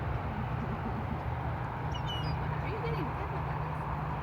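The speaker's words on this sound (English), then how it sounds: "Here comes some more ducks." Ducks at a pond in Fort Borst Park give faint, scattered quacks over a steady outdoor background, with murmuring voices nearby.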